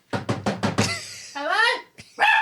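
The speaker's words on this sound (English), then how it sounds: "Oh, dog." A dog gives four quick, close barks in a row, then whining, yelping sounds, and people talk around it.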